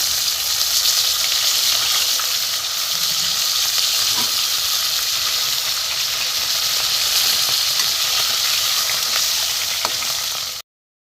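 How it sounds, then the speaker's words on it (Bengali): A fish head fries in mustard oil, a loud, continuous crackling sizzle with small pops that runs unbroken for about ten seconds before cutting off abruptly. "মাছের মাথাটা একটু ভালো করে ভেজে নেবো"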